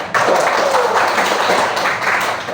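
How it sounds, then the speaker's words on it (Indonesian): A classroom of students applauds during a microteaching lesson, a dense, steady burst of clapping that stays loud and even for a couple of seconds before tapering slightly. "Tepuk tangan untuk kita semuanya."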